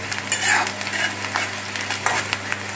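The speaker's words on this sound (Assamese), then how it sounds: "আমাৰ পিঁয়াজ ভাজা হৈছে আৰু অকণমান লাগিব ৰঙচুৱা হ'বলৈ।" Onions sizzle in mustard oil while being stirred in a pan for an Assamese bottle gourd curry, a close crackling fry with scraping stirs throughout.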